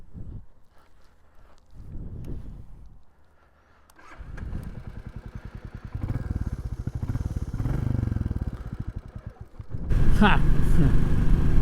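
A Royal Enfield Classic 350 motorcycle idles, then revs and pulls away into a rising, throbbing single-cylinder engine note, loud and close. A voice briefly exclaims near the start.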